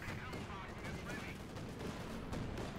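Rapid flak-cannon bursts from an Ostwind tank's 30mm gun firing on infantry in Company of Heroes 2, a dense, continuous rattle of gunfire mixed with battle noise and faint commentary voice underneath.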